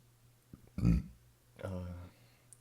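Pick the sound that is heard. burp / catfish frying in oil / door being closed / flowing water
burp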